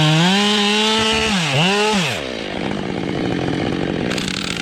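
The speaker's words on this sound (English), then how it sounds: "The chainsaw roars to life" An Oregon chainsaw revving up and then biting into a massive tree trunk, loud and close, the engine whine rising and dipping before settling into a rough, steady cutting roar.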